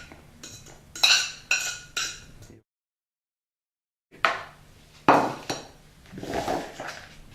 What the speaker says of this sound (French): on mélange la morue avec les pommes de terre.